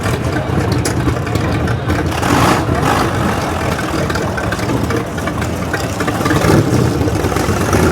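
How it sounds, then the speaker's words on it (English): Vintage hot rods with very loud open exhausts idle and rumble at a beach gathering in Pendine, Wales, a steady heavy engine roar with occasional revs. "Some very, very loud, very open exhausts as well."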